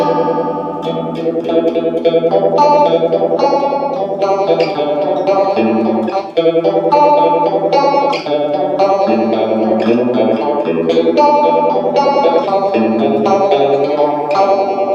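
Electric guitar runs through an MXR Phase 95 phaser pedal, playing a continuous melodic line with a sweeping, swirling, slightly synthetic tone, loud and close with no talking.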